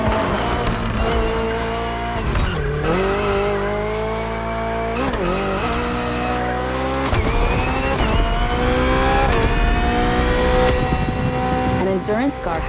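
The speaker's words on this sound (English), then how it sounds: "the BMW M Hybrid V8. What a beast." BMW M Hybrid V8 endurance race car in The Crew Motorfest, a loud engine howling and shifting pitch through gear changes, with tire squeal, and a voice talking over it.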